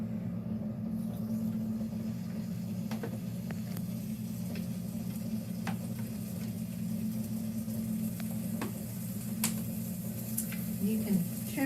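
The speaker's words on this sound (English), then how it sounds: "You can hear those pork chops cooking in the background" Boneless pork chops cooking in a hot cast iron pan give off a steady, low frying sizzle in the background, continuous and moderately loud, with occasional faint clicks and light clatter.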